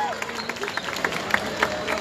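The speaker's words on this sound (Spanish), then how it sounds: "Fuerte las palmas para recibir" An outdoor crowd claps to welcome a school band at a school band contest, scattered uneven claps under a general hubbub of voices.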